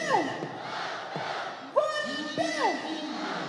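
Crowd chanting in unison at the Attari-Wagah border Beating Retreat ceremony, led by BSF personnel: loud, rhythmic massed voices with a leader's calls rising over the roaring throng.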